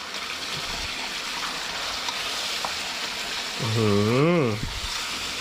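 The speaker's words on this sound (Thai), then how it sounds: "แล้วก็ผัดคลุกเคล้าให้เข้ากันเลยนะครับ" Crispy fermented fish chili paste with fried spices, chilies, shallots and garlic is stir-fried in a field-kitchen pan, a steady close sizzle and crackle with stirring scrapes, and a brief voice sounds midway.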